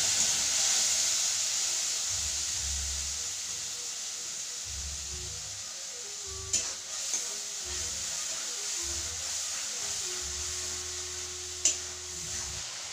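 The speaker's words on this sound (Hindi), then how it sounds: "मेरा मसाला भी भून चुका है" Masala fries in oil in a kadhai, a steady soft hiss and sizzle running throughout at moderate distance, with a low intermittent hum and two brief clinks of stirring.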